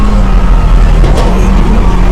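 A hillclimb race car flashes past at about 100 mph on a lakeside course, a steady, loud engine roar holding throughout the short burst.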